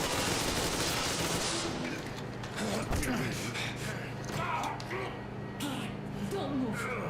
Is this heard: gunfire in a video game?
yes